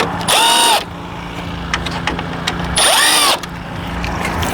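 Two short bursts of a power tool spinning out grille bolts on a 2005 Jeep Liberty during radiator work, each whirring up and winding down, close and loud with a steady hum between them.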